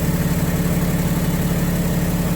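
A 2008 Cummins 6.7L diesel pickup idles with its exhaust brake switched off, a steady, close, low rumbling drone with an even pulsing throb and no other sounds.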